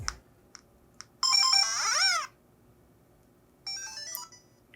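Bright electronic chiptune bursts from Tetris on a Miyoo Mini handheld, a short jingle with a falling sweep, then quiet, then another beeping melody over faint background hiss.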